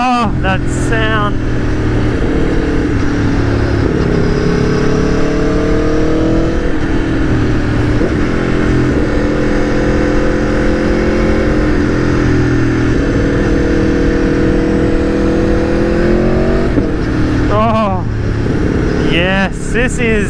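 The V4 engine of an Aprilia Tuono V4 1100 road motorcycle roars loudly and continuously up close as it is ridden. The pitch rises and falls through repeated revs and gear changes.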